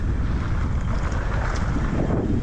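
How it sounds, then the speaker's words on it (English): Strong wind buffets the microphone outdoors along a track, a continuous loud roaring rush with gusting texture and no voices. "A lot windier."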